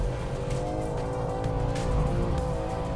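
A BMW M3 Competition, a 510-horsepower rear-wheel-drive sports car, drones steadily under acceleration, its engine note rising gently with faint tire noise and no voices.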